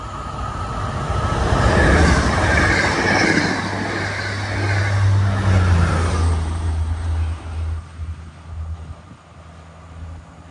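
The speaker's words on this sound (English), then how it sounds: "we catch one more eastbound MBTA commuter train heading towards Boston" An eastbound MBTA commuter train passes close on the Northeast Corridor, a loud rumbling rush with low engine drone and rolling wheel noise that builds, holds, then fades away toward the end.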